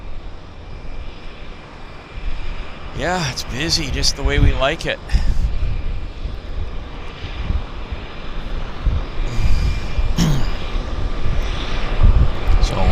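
PT6 turboprop engine running at a busy harbour seaplane airport, a steady droning engine roar with wind noise that persists throughout, while someone talks over it in the middle section.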